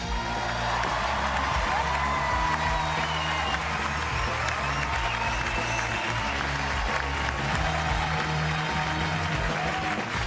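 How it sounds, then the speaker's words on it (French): A studio audience bursts into thunderous applause and cheering for comedian Tariq on a French comedy stage set, dense continuous clapping with scattered whoops, loud and sustained throughout. "un tonnerre d'applaudissements pour Tariq"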